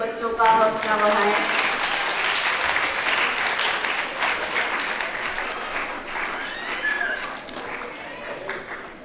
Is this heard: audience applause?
yes